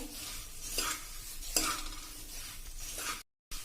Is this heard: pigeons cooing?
no